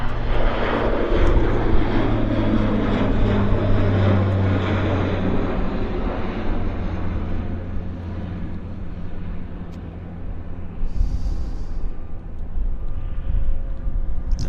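Boeing Dreamliner jet engines at Vancouver Airport, a loud close roar with falling tonal whines that slowly fades as the aircraft moves off, a higher hiss rising near the end.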